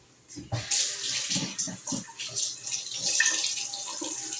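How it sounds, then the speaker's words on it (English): Kitchen tap running steadily into a sink while hands are washed, a close, continuous gush of water with small splashes and shifts as hands move under the stream, no speech. "Let me wash my hands"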